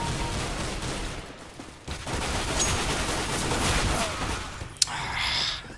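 Rapid gunfire in CS:GO Arms Race, sustained crackling shots with one sharp louder crack near the end, harsh and continuous under a whispered voice.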